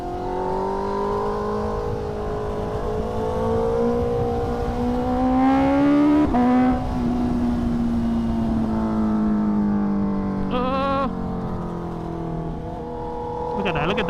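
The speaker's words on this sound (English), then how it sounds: "Don't tell me how to ride my bike." A Honda CBR650R motorcycle being ridden, its engine note rising and falling through gear changes with a falling pitch sweep midway, heard continuously and fairly close from the rider's position.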